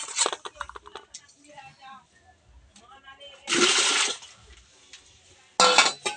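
Mushrooms being washed in clean water in a home kitchen for butter mushroom, with splashing, sloshing and clinking of a bowl, bursts of pouring water, and a voice talking over parts of it.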